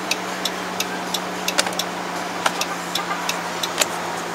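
Turn signal ticking steadily inside a 2013 Chrysler Town & Country Touring-L minivan, a regular sharp tick about every third of a second over a steady low engine hum, close and clear.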